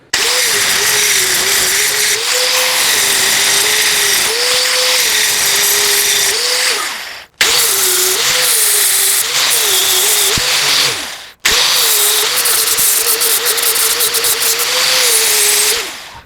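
An angle grinder with a flap disc smooths a weld seam on a steel window grille, whining loudly and steadily in three long passes, its pitch dipping under load, with brief stops between passes.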